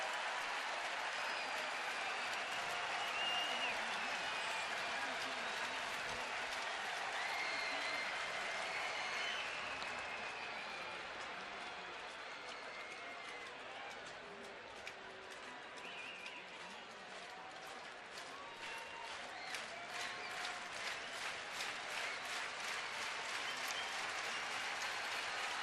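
Ballpark crowd of over 20,000 at a Twins versus Cleveland baseball game cheering and applauding steadily, a broad roar that swells, dips slightly, then rises again with rapid clapping near the end.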